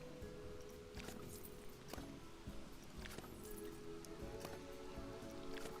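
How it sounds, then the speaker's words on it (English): Steady rain in the video game Planet Coaster 2, a dense, even patter of drops covering the whole stretch, with occasional louder splashes and clicks rising above the continuous wash. "It rains again."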